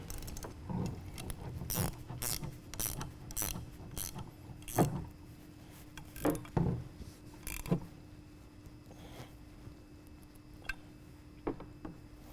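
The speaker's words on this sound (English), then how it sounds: "I'm taking my 1/2 inch wrench here, and this is where having a ratcheting wrench or socket is very helpful." A 1/2 inch ratcheting wrench tightens a bolt while assembling a Tilmor basket weeder, making a series of quick, close clicking ratchet bursts with pauses between strokes, quiet and without voices.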